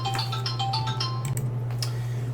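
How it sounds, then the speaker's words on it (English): A phone rings for an incoming call: a repeating electronic ringtone chirps in several short bursts over a steady low hum, fairly close and alone, with no talking. "Got a phone call."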